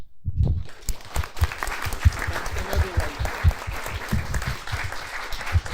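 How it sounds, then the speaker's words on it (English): An audience at a panel discussion on national resilience and war trauma gives a sustained round of applause, dense clapping that holds steady for several seconds with a few low thumps underneath. "So let us give us our sincere applause"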